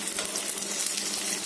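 Fish fries on a flat stone griddle with a steady, dense sizzle and crackle of hot oil, close and continuous throughout.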